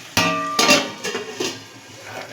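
A lid is set down on a pan of tomato masala cooking over low heat, giving a sharp metallic clink followed by a few softer knocks and rattles from the cookware.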